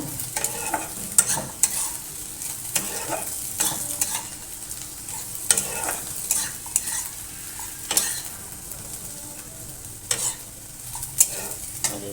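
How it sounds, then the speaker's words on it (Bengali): Potatoes frying in a pan, a steady soft sizzle broken by repeated scraping stirs and clinks of the utensil at an uneven rhythm, close and moderately loud, with no talking. "আলু ভাজা হয়ে গেল"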